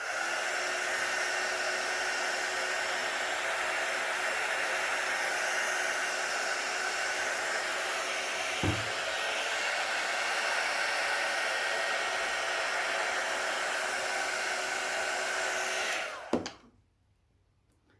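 A heat gun blows a steady, loud rushing whoosh while warming material on a vintage nightstand, holding constant for the full length before cutting off abruptly near the end.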